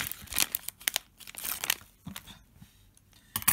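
Crinkling and rustling of a plastic Super Mario figurine packet being cut open with scissors, irregular bursts of crackle and snips close to the mic, with no speech.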